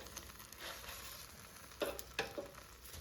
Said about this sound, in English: let's take out the air fryer basket and let's flip the burgers over so they cook more evenly